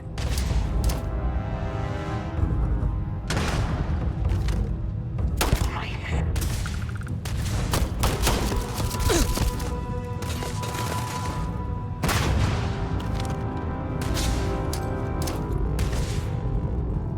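Grenades and a mine going off in the space game Starfield, a dense run of loud booms and gunfire-like blasts with crashing impacts, repeated bursts across the clip.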